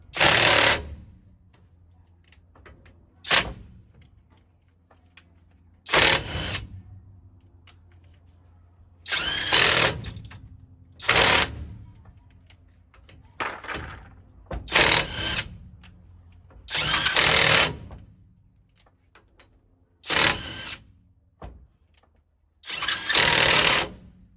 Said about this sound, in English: the ONEVAN releases and tightens the wheel bolts with ease